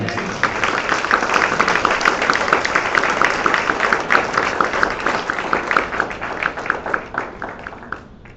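A church congregation claps during a Sunday service, a long run of dense applause with a rhythmic pulse building through the middle, then thinning out and fading toward the end.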